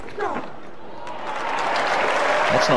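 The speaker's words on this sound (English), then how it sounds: "he deserves a rich applause here." A Test-match cricket crowd at Auckland, New Zealand versus Australia in 2005, breaks into broad applause that swells steadily and grows louder to the end, the clapping mixed with crowd noise and a faint voice.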